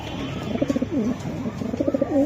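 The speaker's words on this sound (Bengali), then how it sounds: "দুইটা কবুতর দিলাম, দেখি ডাকে কিনা" Racing pigeons cooing close by, soft throaty bubbling coos repeating in short rhythmic phrases over a quiet background.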